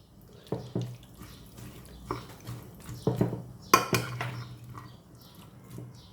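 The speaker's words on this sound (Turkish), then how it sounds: "Önce bir karıştıralım." Utensil scraping and clinking against a baking dish while vegetables and chicken are stirred with clarified butter, a series of irregular close knocks and scrapes with soft wet movement between them and no talking.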